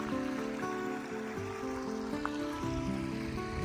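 Water rushing at a waterfall and river in Placerita Canyon after rain, a faint steady wash of flowing water with a brief splashy accent midway.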